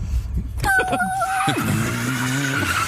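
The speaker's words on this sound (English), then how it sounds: "you hear the door slam and the car engine start and the airplane fly away" A bundle of comedic sound effects: a sharp door slam, then a car engine starting up and a rising, whining airplane roar that sweeps and fades, all packed into a few seconds, loud and close, with no talk over them.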